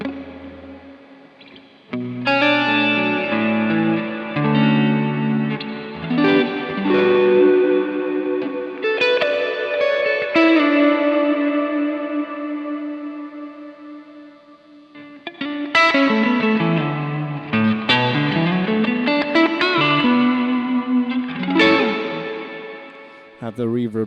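Sustained electric guitar notes ring out through a room reverb effect set to a high mix, heavy and spacious, each chord trailing into a long wash of room echo.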